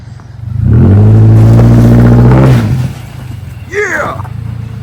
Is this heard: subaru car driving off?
yes